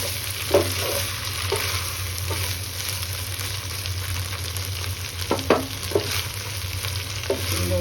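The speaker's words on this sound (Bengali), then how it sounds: "এবার সুন্দর করে নাড়তে হবে।" Ground cumin and ginger paste frying in a pan for a young jackfruit curry, a constant sizzle broken by several distinct scrapes and knocks of a spoon stirring at irregular intervals.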